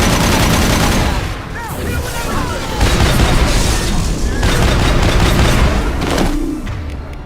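Gunfire in Mass Effect 2: rapid bursts of shots and booming impacts in a sustained firefight, loud and close, with voices calling out over the shooting.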